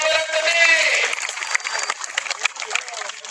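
Crowd applause for wrestler Sikandar Shaikh at an outdoor kusti wrestling ground in Kiwale, Pimpri-Chinchwad, a dense steady clapping that runs throughout with an announcer's voice over it.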